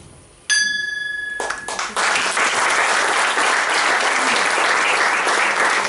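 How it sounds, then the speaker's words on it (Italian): A ceremonial bell is struck once at a presidential handover ceremony, ringing out clearly and briefly before loud applause breaks out and carries on steadily. "a dare l'ultimo tocco di campana"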